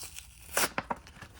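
A Cars die-cast car's card-backed blister package is carefully pried open, giving a short crisp rip followed by a few quick crackling pops of plastic, close and quiet.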